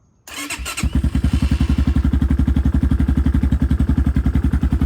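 A 2025 X-Pro Templar 250 motorcycle with a Nibbi PE30 carburetor fires up without choke after a brief crank, then settles into a loud, steady, fast-pulsing single-cylinder idle close by, no talk.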